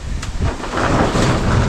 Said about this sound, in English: almost a thunderstorm now